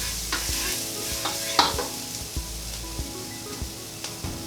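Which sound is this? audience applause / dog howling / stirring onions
stirring onions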